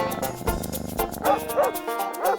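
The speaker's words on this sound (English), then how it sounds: "he's a 2-year-old neutered male beagle" A two-year-old neutered male purebred beagle gives several close, loud barks and yips in an uneven rhythm, with a whimpering edge to the later calls.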